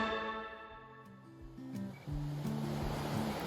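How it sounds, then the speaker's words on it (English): Waves washing against the wharf at Point Arena, California: a soft, broad surf hiss that swells and thickens partway through, mixed with low sustained tones, with no voices. "The sound of the waves on the wharf"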